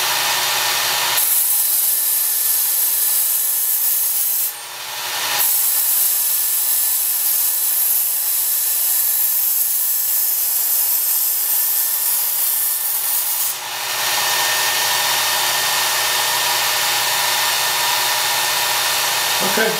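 A Work Sharp Ken Onion Edition variable-speed belt sharpener grinds a knife on a very coarse belt, a loud steady abrasive whine and rasp that runs almost the whole time, with two brief dips where the blade lifts off.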